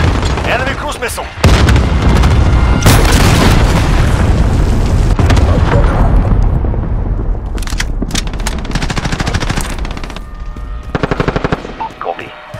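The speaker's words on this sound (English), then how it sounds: "Enemy cruise missile." Gunfire and explosions fill a Call of Duty: Modern Warfare match as an enemy cruise missile strikes, a loud sustained roar of blasts and rapid automatic fire with booming impacts and bursts of shots near the end.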